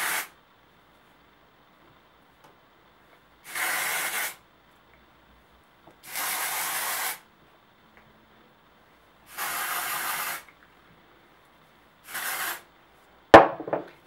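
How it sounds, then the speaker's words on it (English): Dry shampoo aerosol is sprayed at the hair roots in five separate short hissing bursts with quiet pauses between them, followed by a sharp clatter at the end. "when you spray this at your roots and kind of smush it into your hair and comb it through"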